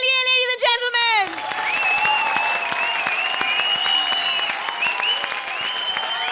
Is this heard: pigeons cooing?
no